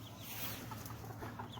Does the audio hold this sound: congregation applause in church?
no